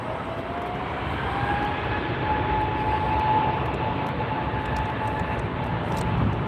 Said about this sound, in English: to see the Dunkin Donuts jet coming right next to us here